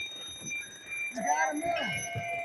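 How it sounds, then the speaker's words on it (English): Low-air alarm on an MSA breathing apparatus pack at a firefighting training scene, a steady high electronic tone sounding amid shouting voices and general fireground clatter. "that's the low air alarm on one of those MSA packs"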